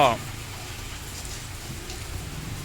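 Heavy rain pours down on a vegetable market, a dense steady hiss throughout, with a brief voice at the start.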